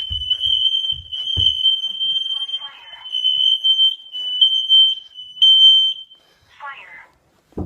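A home smoke detector is being tested and sounds a loud, piercing, steady high-pitched alarm tone that runs for about six seconds. Speech and small household noises are audible beneath it, and it ends with a short burst of warbling chirps.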